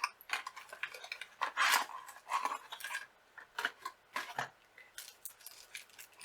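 A beauty box package is opened by hand, giving a run of quiet crinkles, rustles and light clicks in short, irregular bursts. Nobody speaks.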